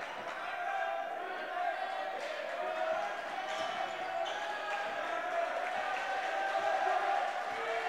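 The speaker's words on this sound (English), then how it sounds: "Indiana Tech bench clapping" Clapping and crowd noise in a basketball gym during an Indiana Tech game, a steady loud hum of cheering spectators with sneaker squeaks and ball bounces, while the Indiana Tech bench claps along.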